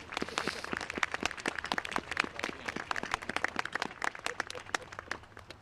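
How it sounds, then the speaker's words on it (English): Audience applause at a Veterans Day ceremony: a modest crowd claps in sharp, distinct individual slaps that overlap into a lively, uneven patter lasting the whole stretch. "Let's give them all a round of applause."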